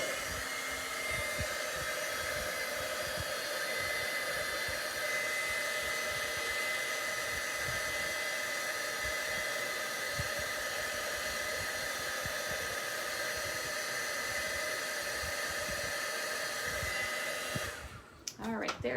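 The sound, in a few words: heat tool melting embossing powder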